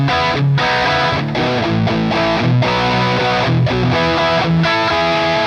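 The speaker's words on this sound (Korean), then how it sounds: "한 번 더 누르면 하이게인 소리로 진입합니다" Enya Inspire smart guitar on a high-gain distortion preset, thick saturated chords strummed in a steady rhythm with short chugging breaks, loud, dense and close, no voices.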